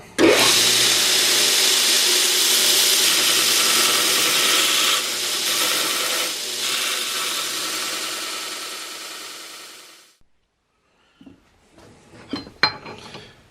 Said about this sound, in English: we're going to go ahead and grind these down a little bit and just get them down decent